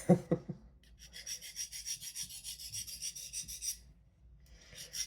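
A paring knife is drawn lightly across a sharpening stone in steady, close, raspy strokes, repeating in a quick rhythm for several seconds before a brief pause, with no talking.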